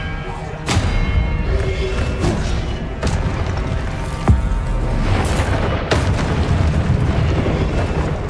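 Expelliarmus spell blasts in Hogwarts Legacy, a string of sharp booming bursts and thuds over continuous loud game noise, with several distinct impacts spread through the fight.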